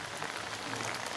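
Heavy rain pours steadily beside rice paddies in a forest, a dense, even hiss of drops close by that fills the whole moment with no voices.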